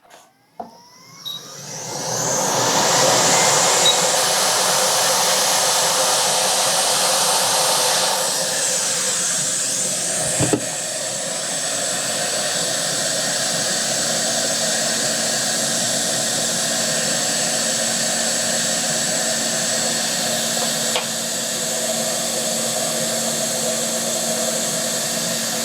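A hot air rework station blows steadily on a chip on an HP ProBook laptop board, with a loud, close, continuous whooshing hiss after a brief start and a couple of faint clicks partway through.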